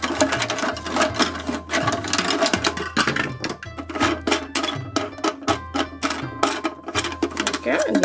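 Plastic bolts being turned and undone by hand on a toy carpenter work bench, a busy run of small clicks and rattles over steady background music.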